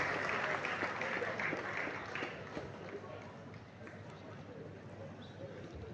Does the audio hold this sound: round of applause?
yes